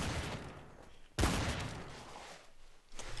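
A single sharp gunshot cracks out in a Trouble in Terrorist Town match, loud and sudden, then rings off into a quieter tail before more noise builds.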